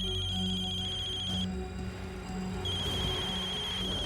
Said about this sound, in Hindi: अरे किसका फोन बज रहा है?